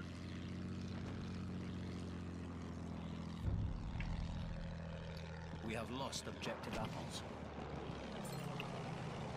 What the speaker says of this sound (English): There's a plane on your tail.